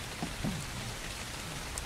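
Rain falls at night in the survival game ARK, a soft steady patter of drops on surfaces, faint and continuous, with a couple of slightly louder splashes near the start.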